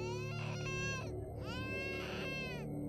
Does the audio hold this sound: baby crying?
yes